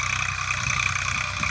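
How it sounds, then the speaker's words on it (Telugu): A tractor works a rotavator across a field, its engine holding a steady, close, continuous drone with a low rhythmic throb underneath. "ఇప్పుడు ట్రాక్టర్తో రోటోవేటర్ చేయిస్తూ ఉన్నాము"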